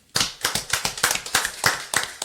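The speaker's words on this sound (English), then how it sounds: "I clap. It was kind of a weak clap." A single person claps hands about a dozen times in a steady, fairly quick rhythm, close and crisp with no talking, during a track and field coaching podcast.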